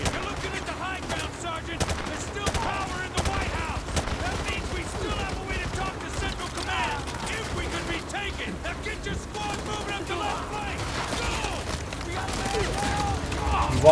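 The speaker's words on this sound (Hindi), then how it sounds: "व्हाइट हाउस पर से लगातार फायरिंग हो रही है भाई" Continuous gunfire from Call of Duty MW2 Remastered during a White House battle: dense, rapid bursts of shots and distant blasts pile up without pause, with raised voices in the mix.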